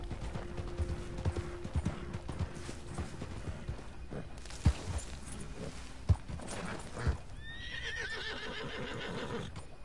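A horse gallops in Red Dead Redemption 2 while chasing a slow train, with a continuous run of hoofbeats and a few heavy thuds, then a loud whinny near the end.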